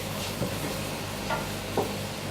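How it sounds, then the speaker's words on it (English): Meat and cabbage stirred in a pan, giving soft scraping and clattering strokes over a low, steady sizzle, with a few distinct spoon scrapes spaced through the short stretch; no voices. "Now we have to stir a little bit."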